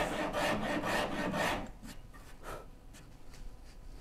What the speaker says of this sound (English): Rasp it down to the line.